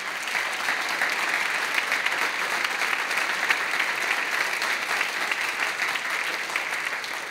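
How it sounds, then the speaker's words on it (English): An audience at a high school holiday choral concert claps for the film crew, a dense, even wash of applause that holds steady throughout without any voices. "Let's give a round of applause to the film crew."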